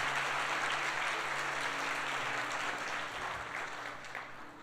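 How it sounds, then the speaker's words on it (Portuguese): Church congregation applauding during a prophetic worship service, a dense steady wash of clapping that fades slightly toward the end, with no talk over it. "Só quem crê, dê um aplauso aí ao Senhor"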